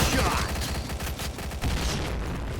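Rapid bursts of P90 submachine gunfire in a first-person shooter game, loud and dense, crackling continuously through the whole stretch with no pauses.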